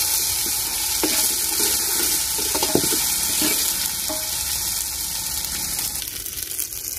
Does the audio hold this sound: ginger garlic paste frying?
yes